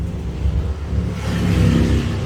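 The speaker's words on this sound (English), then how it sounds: "Sorry about all the noise. I really hate Harley Davidson motorcycles." A loud Harley-Davidson motorcycle engine rumbles nearby, its roar building as it passes close by.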